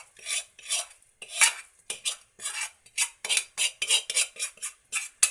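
A spoon scrapes and clinks in quick, steady strokes while stirring sautéed masala into chicken in a pot, close and fairly crisp, with no talking.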